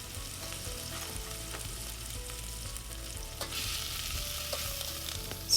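Curry leaves hit hot oil for a pot of toor dal (split pigeon peas), giving a steady crackling sizzle that flares brighter and louder partway through, with no voices.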